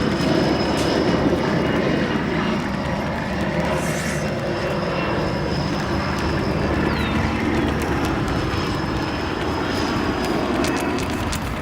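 A jet aircraft rolls and slows on runway 28 Center at Chicago O'Hare, a steady broadband engine roar held at constant loudness throughout, heard from a terminal spotting position with faint higher whines above it.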